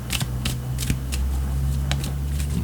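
Tarot cards are shuffled and drawn in short, crisp riffling bursts, about six quick papery flicks spaced irregularly over a steady low hum, close and fairly loud.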